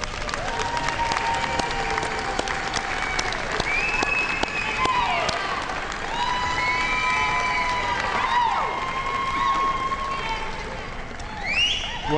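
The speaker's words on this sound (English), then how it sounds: "giving them a very deserved round of applause" A commencement crowd applauds the graduates' families with sustained, loud clapping, scattered whoops and cheers rising above it, and lively voices and shouts running through the ovation.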